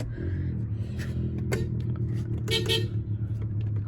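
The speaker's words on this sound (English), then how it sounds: "I like that horn too" A 2013 Isuzu NPR box truck with a Vortec LS engine sounds its horn in several short toots over the idling engine, close by, with brief talk nearby.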